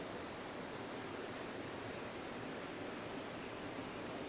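Kanthanpara waterfall flowing, a constant dense rush of falling water heard close and unbroken, with no voices over it.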